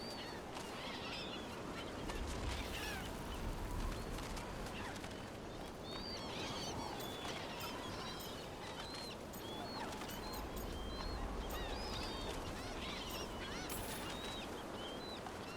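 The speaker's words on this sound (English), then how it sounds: "Stupid birds." A flock of game birds squabbling over thrown food in Dragon Age: The Veilguard, with scattered honking and squawking calls over a dense, noisy outdoor ambience, fairly faint and continuous.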